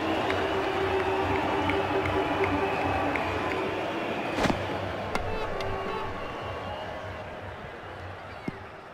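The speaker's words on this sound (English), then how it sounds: "He's getting a polite round of applause as he makes his way to the pavilion." Steady crowd applause from Brian Lara Cricket 2007 as a batsman walks off, polite and continuous, fading slightly toward the end; a commentator's voice is faint underneath.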